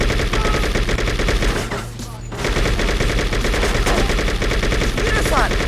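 Gunfire in the True Crime: New York City video game, dense rapid automatic bursts rattling almost nonstop, loud and close, with a short lull in the middle.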